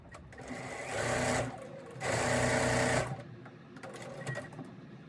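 A home sewing machine stitches quilt block pieces together in two quick bursts of rapid mechanical whirring about a second each, close and clear, separated by quiet handling noises and light clicks.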